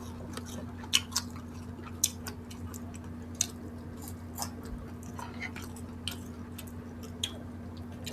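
Crunchy fried fish head being chewed at a Filipino breakfast mukbang: soft, close, irregular crunches and wet squishy bites repeat over a quiet steady hum.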